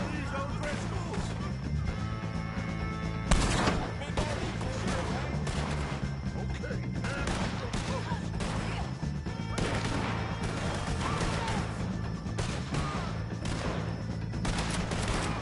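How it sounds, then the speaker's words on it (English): Gunfire against O'Driscolls in Red Dead Redemption 2 rings out as a chaotic run of shots and crashing impacts with one sharp, loud burst, while voices shout faintly underneath. "If you can hear me, shoot some of these O'Driscolls!"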